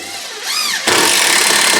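A power drill whirs up briefly, then bites in with a loud, grinding buzz as a deck screw is driven into wood, close up.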